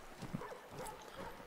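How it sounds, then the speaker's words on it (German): Horses clip-clop in Assassin's Creed 3, a quiet, steady run of hoof beats with soft game ambience behind them and no talking. "Und das sind bestimmt Pferde."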